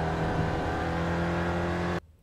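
An SRF race car engine at Interlagos in iRacing drones loud and close with a steady harmonic whine and slight pitch dips as throttle eases, then cuts off abruptly into near silence.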